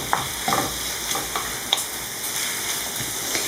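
Chicken and mushroom white sauce being stirred in a pan, a bright steady sizzle with a few distinct clinks and scrapes of the spoon against the pan.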